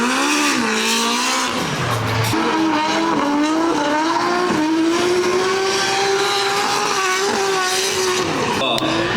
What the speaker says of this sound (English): You guys can hear this thing as it rips around the track. It's a very high revving V8.